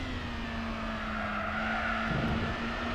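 Racing car engine held at full throttle in Gran Turismo 4, a steady sustained drone with a hint of tire scrub, loud and continuous throughout.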